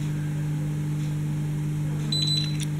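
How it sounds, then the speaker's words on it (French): A short high electronic beep near the end as a Xiaomi Mi Drone camera takes a photo, over a steady mechanical hum. "vous avez entendu le petit bip, ça a pris une photo réussie"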